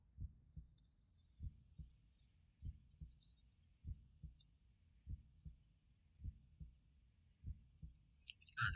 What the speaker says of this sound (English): The heart beating really makes sense now.